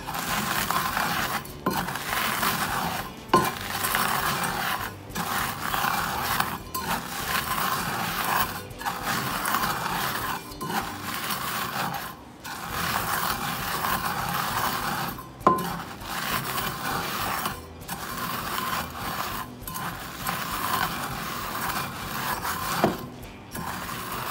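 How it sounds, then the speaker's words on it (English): Salted pretzels are crushed and rolled around in a stone molcajete using the bottom of a cup, giving a steady, close grinding and scraping crunch with brief pauses and occasional knocks throughout. "salted pretzels, and I put them in my molcajete. And I'm just going to roll it around in here."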